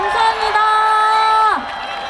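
A crowd cheers and whoops for a surprise birthday celebration after a concert, loud and close, with a sustained tonal line running through and the noise easing near the end.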